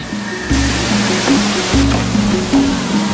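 A waterfall in Iligan City, Lanao del Norte, roars as a dense, steady rush of falling water, loud and close with no voices.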